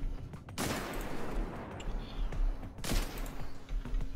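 Gunfire from the video game Destiny 2 on the planet Nessus, with a loud broadband blast near the start and a second shot near the end, each followed by a noisy rumbling tail.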